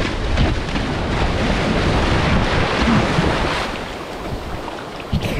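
Ocean surf at a tropical beach in Davao, Philippines, a steady broadband wash of breaking waves mixed with heavy wind buffeting the microphone, loud and continuous before easing slightly near the end.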